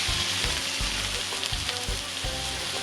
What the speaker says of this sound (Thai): เดี๋ยวเราจะตั้งไฟกันนะคะโดยที่เราจะใช้น้ำมันมะกอกค่ะเราจะใส่กันเลยนะคะแล้วตามด้วยนะคะหมูนะคะที่เราหั่นไว้นะคะ